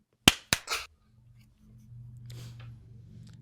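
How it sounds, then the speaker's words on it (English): Sharp hand claps used to sync audio at the start of a podcast recording, heard as two or three crisp, close slaps in quick succession, then a quiet room with faint low hum and a brief rustle. "All right, clap sync real quick."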